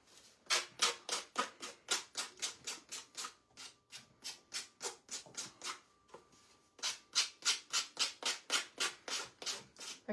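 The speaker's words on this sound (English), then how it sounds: "it's still I'm gonna still sand off the extra here" Cardboard edges being hand sanded, steady rhythmic back-and-forth scrapes repeating in quick strokes, a brief pause midway, close and clear with no talking.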